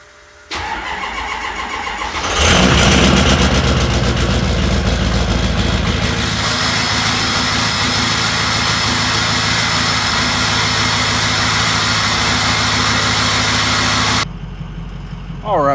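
A cold Fury Country Hunter MT-shod truck engine cranks and catches after sitting since the weekend, then settles into a loud, steady idle for about twelve seconds before dropping off.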